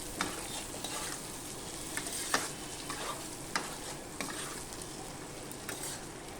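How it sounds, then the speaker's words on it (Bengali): Fried potatoes sizzle steadily in a pan as they are stirred with chili powder and spices, with frequent sharp scrapes of a spoon against the pan and no voices. "আলুগুলো ভালো করে একটু কষিয়ে নেব"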